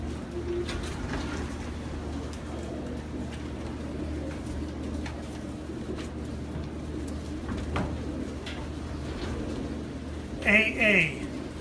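Pigeons coo softly in a large loft housing thousands of birds, a low murmuring bed of cooing under steady background noise, with a few louder close calls near the end and someone talking throughout.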